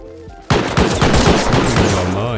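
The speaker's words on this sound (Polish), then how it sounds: "Oho, strzelają się nawet już." Gunfire erupts in the survival game Rust, a sudden loud burst of rapid automatic shots, close and sharp, continuing as a dense rattling volley after a quiet start.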